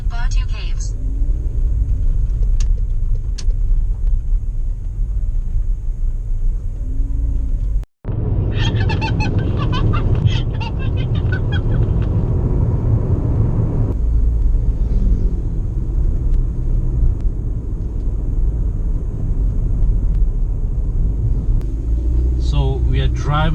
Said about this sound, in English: So we are driving through Sungkai.